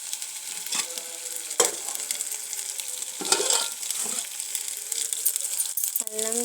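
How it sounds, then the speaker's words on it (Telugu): Ginger and garlic fry in oil for a mutton curry, a steady sizzle with a few sharp clinks and scrapes of a utensil against the pan. A brief voice cuts in near the end. "అల్లం వెల్లుల్లి వేగిందండి"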